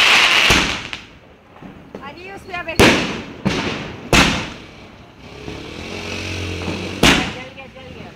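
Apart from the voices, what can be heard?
firecrackers being set off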